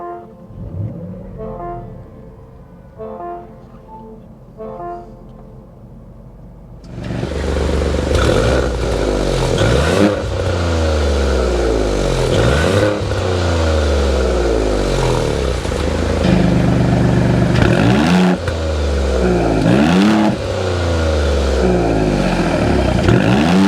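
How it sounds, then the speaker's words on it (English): A 2024 Maserati GranTurismo Trofeo starts up indoors after a few quiet seconds. Its exhaust catches with a loud burst and then settles into a strong, close rumble, broken by repeated sharp throttle blips that rise and fall. "start up this Trofeo so you can hear that exhaust note"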